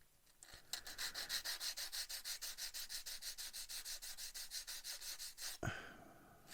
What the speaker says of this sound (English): that's all the fixing points sanded off